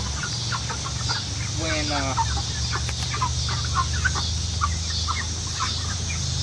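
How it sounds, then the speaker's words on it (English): Backyard chickens around a homemade coop cluck and murmur near the listener, with soft repeated calls and a brief higher squawk, under a low steady hum and a faint word of speech. "our chickens are pretty happy chickens."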